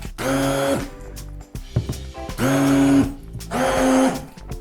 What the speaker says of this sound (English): I feel like I'm going to destroy the blender.